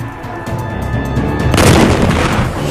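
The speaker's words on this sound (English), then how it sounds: "The North Vietnamese artillery in the mountains begins firing on Lang Vây Special Forces base." North Vietnamese artillery firing from the mountains on the Lang Vei Special Forces base, a low rumbling backdrop that swells into a heavy, sustained blast of booming noise, loud and close.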